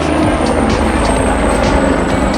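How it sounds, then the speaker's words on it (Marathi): A helicopter flies low over the tent camp at Kedarnath, its loud, close rotor thump and engine roar running steadily through the whole stretch with no talking. "हेलिकॉप्टर बघा किती खालीन चाललंय"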